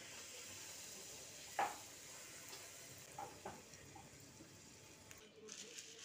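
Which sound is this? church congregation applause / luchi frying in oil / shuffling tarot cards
luchi frying in oil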